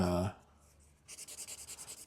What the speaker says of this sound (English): Just put some color on this paper